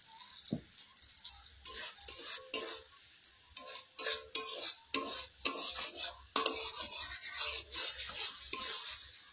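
Spice paste being stir-fried in a pan for a homemade chicken curry over a wood fire, with a steady run of scraping and stirring strokes and a light sizzle, close and fairly loud, no talking.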